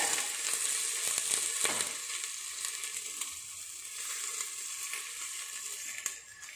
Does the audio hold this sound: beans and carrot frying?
yes